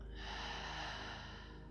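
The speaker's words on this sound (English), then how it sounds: "Breathe in through your nose. Breathe out through your mouth." One long, close breath drawn out slowly during hatha yoga breathing, in through the nose and out through the mouth, a soft airy exhale lasting nearly two seconds in a quiet room.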